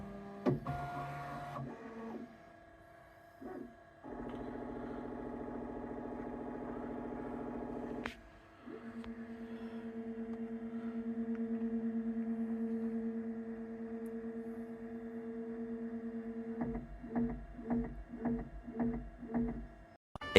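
A Bambu Lab 3D printer runs its calibration routine, humming steady motor tones that shift pitch in long stretches, then ending in a quick series of rhythmic pulsing buzzes, close and continuous.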